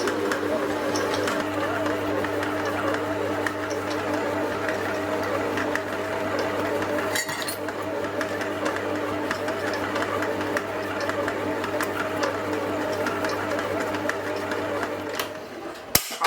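A stand mixer beating green Grinch cookie dough runs as a steady, even motor whir with a droning hum throughout, stopping with a brief clunk at the end.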